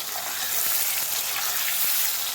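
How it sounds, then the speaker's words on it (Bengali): Potatoes fry in hot oil with turmeric and salt, a dense, steady sizzle that runs without a break, close and fairly loud, with no talking. "চলুন এটাকে ভেজে নিই হালকা হলুদ আর লবণ দিয়ে"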